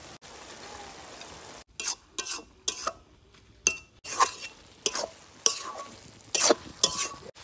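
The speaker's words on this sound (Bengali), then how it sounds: "বাঁধাকপি দিয়ে 5 মিনিট মতো ভেজে নিয়েছি, এখন ভেজে রাখা মাংসগুলো দিয়ে দেবো।" Fried chicken pieces go into a pan of sautéing cabbage, with a low background sizzle. Bursts of loud stirring, scraping and metallic clinks of a utensil against the pot arrive in irregular clusters with short pauses between.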